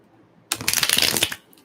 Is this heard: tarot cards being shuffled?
yes